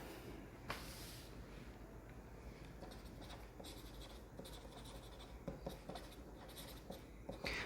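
Pen scratching across paper while a calculus solution set is written out by hand, soft continuous strokes with small taps, quiet and close with no talk.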